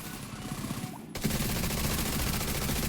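Rapid automatic gunfire in The Division 2, a dense continuous burst of shots starting abruptly after a quieter moment and holding steady to the end, with no talk.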